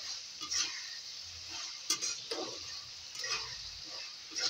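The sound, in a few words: frying tomato mixture in oil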